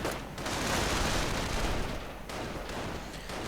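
Sniper and infantry gunfire in a real-time strategy game battle, a dense, steady crackle of overlapping shots with a brief dip before the firing resumes.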